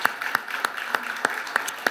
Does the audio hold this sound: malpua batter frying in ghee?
no